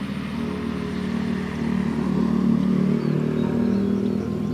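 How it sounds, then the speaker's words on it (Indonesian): DJI Mavic Air 2 drone in flight, a steady, even propeller whine with a low motor hum that swells slightly midway, continuous and fairly close. "Oke, drone kita udah terbang."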